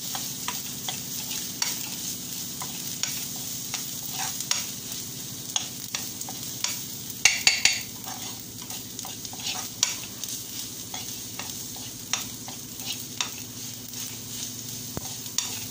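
A coconut, chili and masala mixture for Indian-style spinach curry sizzles in a pan while a utensil stirs it, with scraping strokes and a soft frying crackle throughout and one louder clatter midway.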